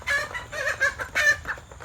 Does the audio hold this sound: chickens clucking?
yes